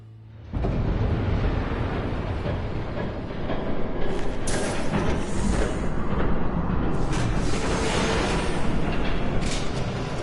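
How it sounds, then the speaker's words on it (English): Train approaching in a Batman video game, a sudden loud rumbling onset that builds into a sustained heavy roar of rolling rail noise with clanking bursts, no talk. "There's a train coming. Take cover."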